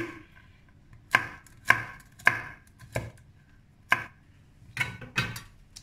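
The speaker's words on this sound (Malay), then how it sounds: "Jadi kacang ni saya potong macam ni" A knife chops walnuts for a date walnut cake, giving about eight sharp, close thuds on a board in an uneven rhythm, with quiet pauses between strokes and no talking.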